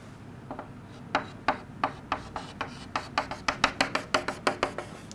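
A diagram is drawn freehand, probably pen or marker on a board, producing a series of quick, close scratchy strokes, sparse at first and then coming faster and more evenly in a rapid rhythm.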